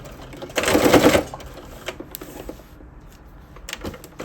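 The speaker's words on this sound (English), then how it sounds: "You're going to stitch across 1/2 inch seam allowance." A sewing machine runs in one short burst of rapid stitching across a half-inch seam allowance, close and clear, then falls away to quiet fabric handling and small clicks.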